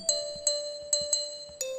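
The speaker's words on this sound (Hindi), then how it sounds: "तभी स्कूल की घंटी बजी" Bright electronic chime tones ring out in a quick uneven series of about six strikes, each with a clean sustained ring, signalling a school bell in a children's story.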